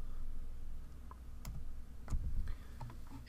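Keys clatter on a computer keyboard in a quiet room, a scattered run of light, sharp taps with uneven gaps and a few louder clicks over low background hum.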